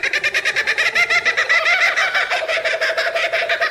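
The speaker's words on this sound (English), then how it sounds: "Number 1, laughing kookaburra." Laughing kookaburra calling in a loud, rapid, rhythmic cackle of repeated hooting notes, close and continuous, rising in intensity with no voices present.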